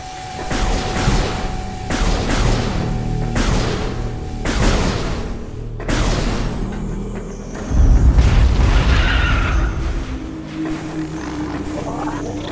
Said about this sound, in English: this wild pack of larva. That for some reason want to explode and blow up on you.